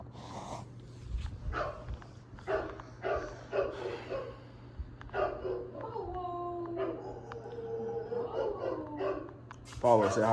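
A dog yips, whimpers and gives short barks and howl-like cries in irregular bursts, close by, while people talk over it.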